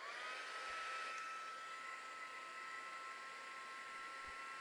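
A heat tool used for embossing blows a steady, loud whooshing hiss with a faint whine, running nonstop and close by, with no voices.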